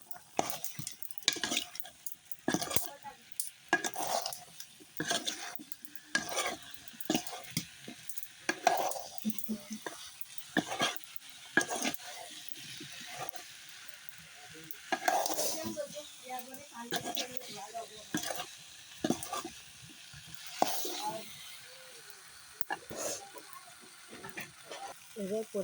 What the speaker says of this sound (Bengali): চামচ দিয়ে নেড়ে দেবো, সব একসাথে মিশিয়ে নেব।